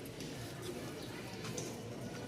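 Hungry pigeons cooing at a pigeon market in Mirpur-1, Dhaka: a steady, low murmur of soft coos over a continuous busy background, with no clear breaks.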